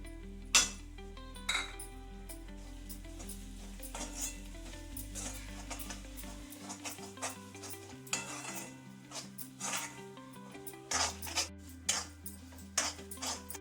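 Cooked ambadi leaf vegetable being stirred in a pan after ghee is added, with repeated scraping and clinking of a utensil against the pan over a steady low hum and background music.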